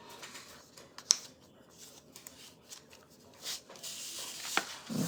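Paper card corners being folded and creased by hand, soft rustles and rubbing with a couple of sharp crisp creases, close and quiet.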